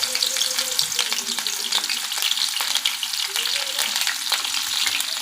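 Green chillies fry in a generous amount of hot oil, producing a dense, steady sizzle near the microphone, punctuated by occasional stirring scrapes, with no voice.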